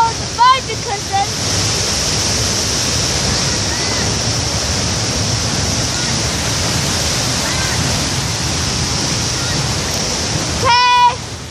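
Steady broadband roar of a waterfall on a mountaintop, loud and continuous throughout, with brief faint whistle-like calls near the start and end.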